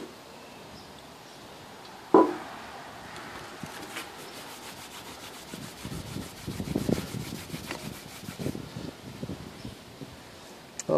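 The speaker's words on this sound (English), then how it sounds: "Let me just try to put some on a rag and wipe it off and see what my progress is." A rag wiping acetone across the corroded metal front panel of an Eico Model 1140 R-C Combination Box, giving soft, irregular rubbing strokes that grow busier toward the end, with one sharp knock early on.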